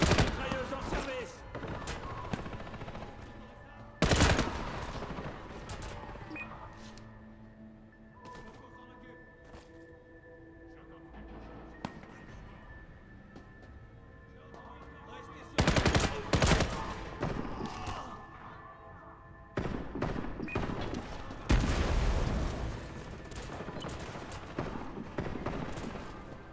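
Bursts of machine gun fire from a Warface firefight, loud rapid volleys at intervals separated by quieter stretches of game ambience, with scattered voice lines in between.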